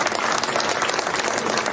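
Dense, steady applause from a large audience at a BSP election rally in Haryana welcoming Akash Anand, many hands clapping at once, loud and continuous throughout with no speech.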